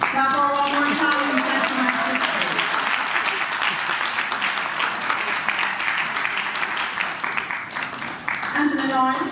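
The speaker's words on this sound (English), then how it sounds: "Clap her one more time." Audience applause at the 2018 GraceKennedy/Heather Little-White Household Workers of the Year Awards, loud dense clapping filling the room continuously, with a voice heard briefly at the start and end.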